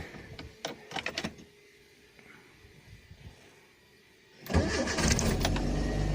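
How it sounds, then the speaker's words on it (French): A 1986 Renault Super 5 GTL with a 1.1 engine catches and roars loudly to life after a few faint clicks, then holds a strong, steady revving drone close by to the end. "Il faudrait que je mette un petit coup d'accélérateur."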